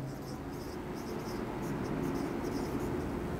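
Chalk or a pen scratches across a board during a fifth-grade mathematics lesson, making faint, steady writing strokes over a constant background hum.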